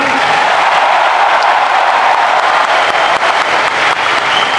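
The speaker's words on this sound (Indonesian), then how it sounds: "Tepuk tangannya, kurang semangat." A large crowd at an Indonesian political speech claps steadily and loudly throughout, a dense continuous wash of applause without a break.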